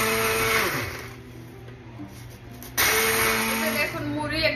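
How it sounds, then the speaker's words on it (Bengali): An electric blender grinds puffed rice into powder, a whining motor drone with shifting pitch that dips and then surges back to full speed, close and loud. "এই যে মুড়িরে ব্লেন্ডার মেশিন দিয়ে আমি ব্লেন্ড করতেছি"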